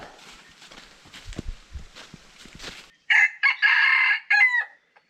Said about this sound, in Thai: ลองเปิดเสียงไก่ซิว่ามันจะตอบรับจากในป่ามาหรือเปล่า